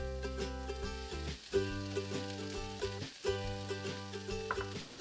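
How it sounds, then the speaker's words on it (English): Cooked black beans and corn sautéing in a pan give a steady close sizzle, with a few stirring scrapes, beneath sustained tonal background sound. "We're going to saute for a little bit, for about 3 minutes."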